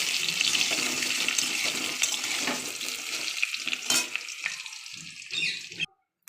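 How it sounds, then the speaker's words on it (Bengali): Potatoes fry in hot oil, a steady bright sizzle with stirring scrapes that eases off toward the end before cutting out abruptly, with no voices. "আমার আলু ভাজা হয়ে এসছে"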